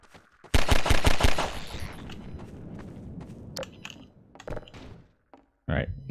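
Rapid gunfire erupts close up in Half-Life 2: a quick burst of about half a dozen shots, then scattered clicks and footsteps, a lone shot, and a short loud blast at the end.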